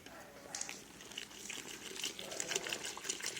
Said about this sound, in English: I'm gonna pour all this water in here